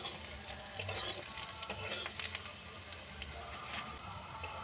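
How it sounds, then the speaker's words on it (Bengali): Garlic frying in a pan until reddish-brown for a fish curry, a continuous close sizzle with faint clicking and scraping, no one speaking. "রসুনটা এইভাবে আমি ভালো করে লাল লাল করে ভেজে নেব।"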